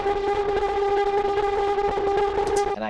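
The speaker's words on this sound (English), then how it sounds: "I created a synth sound out of drums" A heavily distorted, droning buzz with a steady pitched tone like a synthesizer, continuous and loud, with faint rhythmic pulses beneath.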